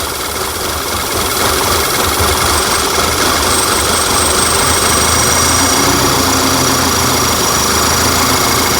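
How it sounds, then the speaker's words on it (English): A 2011 VW Tiguan engine runs rough and lean with propane fed into the intake, giving a loud, steady idle with an uneven low-end knock and no talk over it. "Turn the propane on again."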